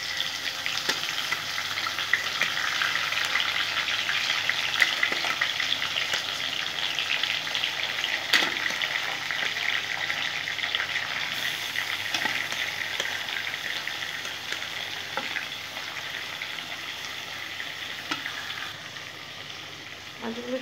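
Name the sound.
fish frying in hot oil in a pan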